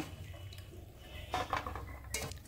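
Vegetable stems are rinsed in water, giving soft splashes and trickles along with a few light knocks of a pot or bowl, all fairly quiet.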